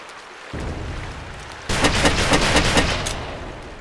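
Gunfire in the blocky shooter game Ace of Spades, a sustained rattle of shots that jumps louder midway, with rapid overlapping reports and no talk.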